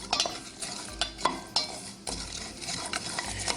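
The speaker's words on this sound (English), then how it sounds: "I'm gonna turn the heat back up and start stirring." A spoon scrapes and stirs powdery keto food in a pan over raised heat, with a few irregular strokes, light sizzle and utensil clicks close up.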